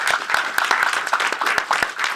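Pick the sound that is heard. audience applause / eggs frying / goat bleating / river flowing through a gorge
audience applause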